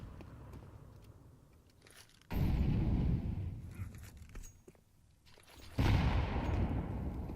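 Grenade blasts and gunfire in a Counter-Strike match: two loud, sudden explosions several seconds apart, each followed by a roaring, fading rumble, with quieter scattered shots before and between them and no voices.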